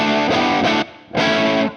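Two loud, saturated guitar chords strike through a Michelangelo Dophix overdrive pedal, each held for about half a second to a second with a short gap between them.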